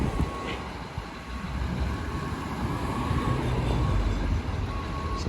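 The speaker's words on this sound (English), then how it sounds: "Surprising amount of traffic." Busy city street traffic in Regina, near a roadwork site with a closed sidewalk, where a continuous rumble of trucks and cars rolls past at moderate distance, with heavy low-end drone and no talking.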